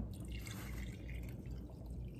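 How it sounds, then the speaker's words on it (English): Water poured into a wasp bait jar holding a frozen bait block, a steady close splashing and trickling that runs unbroken throughout. "Let's add some water to our popsicle."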